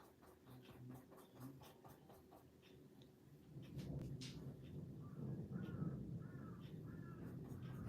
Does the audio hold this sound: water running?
no